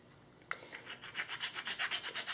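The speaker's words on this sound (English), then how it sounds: "Use my precision file really quick for my Leatherman" A Leatherman precision file rasps in quick, even back-and-forth strokes on an airsoft part, starting with a sharp tap and settling into about a dozen close, quiet rhythmic rubs.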